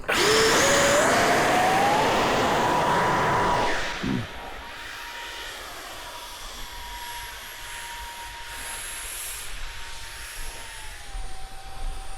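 A model NGAD aircraft with no control surfaces flies under electric motor power. A loud, rising motor whine peaks at launch, then settles into a steady, fainter, distant drone as the plane moves away, with small shifts in pitch.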